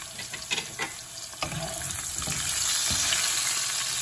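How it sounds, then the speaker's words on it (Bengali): A large rohu fish head and potatoes frying in oil, a broad steady hiss of sizzling that grows fuller toward the end, with a few soft knocks and scrapes of a utensil early on. "বড় রুই মাছ, মাথাটাও বড়, তাকে ভালো করে ভেজে নিচ্ছি।"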